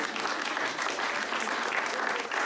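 Comedy club audience applauding steadily throughout, a dense continuous wash of clapping hands with no talk over it.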